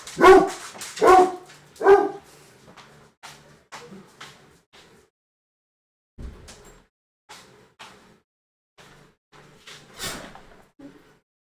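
A dog barks in a quick burst of loud, close woofs, then gives scattered softer yips and whimpers with pauses between, ending on one more sharp bark indoors.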